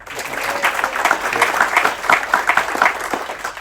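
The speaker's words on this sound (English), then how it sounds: "And big applause last but not least for Daniel." A small crowd applauds the last crew member introduced at an Amadeus crew celebration, clapping steadily and fairly loudly for several seconds, with faint voices mixed in.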